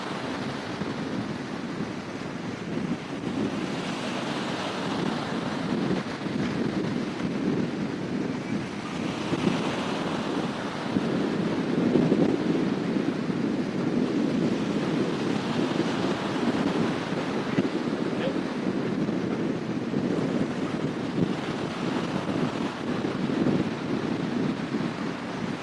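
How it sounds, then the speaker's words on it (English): Wind gusts buffet a microphone outdoors at SpaceX Starbase in Texas, a continuous rushing roar with swelling gusts lasting the whole stretch, steady and close, with no voices. "it is windy, and that's what you're hearing."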